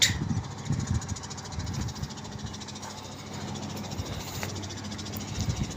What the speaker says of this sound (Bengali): এই হচ্ছে পটুয়াখালী বগা লঞ্চ ঘাট।